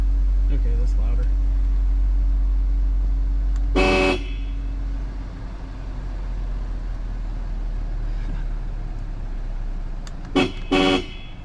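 A newly installed dual horn on a Mk7 Volkswagen Jetta sounds once, then twice more in quick blasts, loud and close over an idling engine, with people talking between honks.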